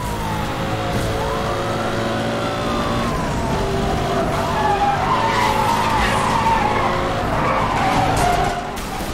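Engine roar and tyre screech from a car in the video game Need for Speed, with rising and falling engine pitch and skidding tones running loud and continuous throughout.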